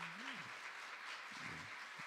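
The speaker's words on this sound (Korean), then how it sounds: "다시 한번 박수 한번 하시겠습니다" A church congregation claps again in a steady, faint, distant patter of applause after a Christmas choir performance, while a voice speaks or hums softly beneath it.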